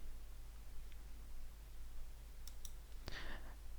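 Mouse clicks on a Mac computer, a couple of faint light clicks followed by a sharper click with a brief rustle, quiet and close against a low steady hum.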